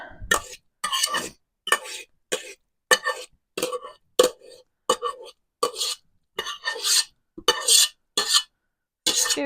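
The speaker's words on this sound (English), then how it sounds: "Scoop it in. This mash is good because I can use it as a bit of a scooper as well." Cooked butternut pumpkin for pumpkin bread being mashed and scooped with a masher in a bowl: a steady run of short, wet, squelching pushes with clinks, close-up and rhythmic, about a dozen strokes.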